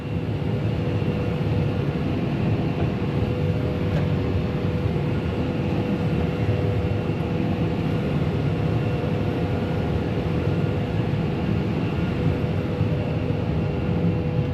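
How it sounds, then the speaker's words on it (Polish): A Claas Trion 640 combine harvester working in barley during harvest, heard as a loud, steady mechanical roar and rumble that continues unbroken throughout, with no voices. "kombajn pracuje"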